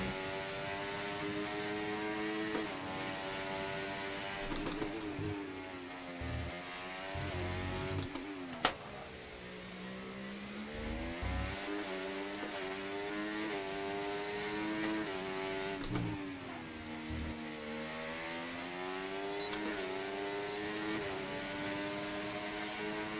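F1 car on a hot lap around Singapore in F1 24, a high-pitched engine whine rising and falling through gear changes and corners, continuous and fairly close with a sharp click partway through.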